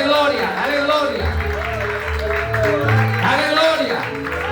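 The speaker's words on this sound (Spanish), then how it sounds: "Dale un aplauso al Señor." A church congregation claps for the Lord during a Spanish-language worship service, a steady wash of applause running under a voice speaking over it throughout.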